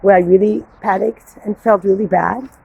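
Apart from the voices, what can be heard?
None of the usual background noises is heard.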